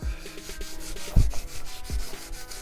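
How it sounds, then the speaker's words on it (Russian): A brushed, burned wooden workpiece with white paint and no varnish is rubbed by hand, making close, scratchy abrasive strokes with a couple of heavier thumps, alone and without talk. "берем заготовку, где было броширование, обжиг, но без лака, с белой краской, и также ее стираем."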